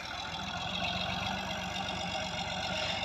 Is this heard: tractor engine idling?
yes